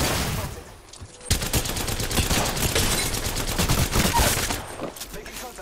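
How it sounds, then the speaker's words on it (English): Video game gunfire, a sustained rapid burst of automatic shots crackling loud and close for several seconds, with brief quieter moments before and after. "Shots fired."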